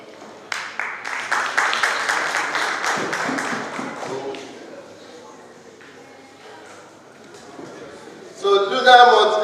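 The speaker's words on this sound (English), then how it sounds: "Can we please clap for Luna Multi Products?" An audience at a Yoruba Day cultural event in Melbourne claps for a sponsor, a burst of applause that fades after a few seconds, with crowd noise and voices rising again near the end.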